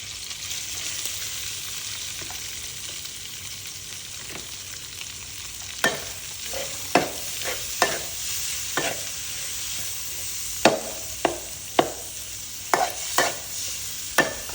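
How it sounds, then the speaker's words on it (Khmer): Pork belly is stir-fried in a pan, a steady sizzle broken by a series of sharp scraping stirs that come more often in the second half; no one speaks. "មកយើងដាក់ទឹកជ្រូក3ជាន់យើងចូលពួកខ្ញុំឆាមួយទឹកជ្រូក3ជាន់"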